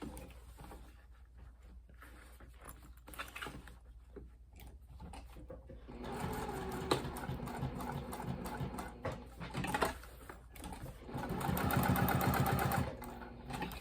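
A sewing machine quilting a Triskele wallet starts after a few quiet handling taps, then runs in rapid stitching bursts of varying length, close by and moderately quiet.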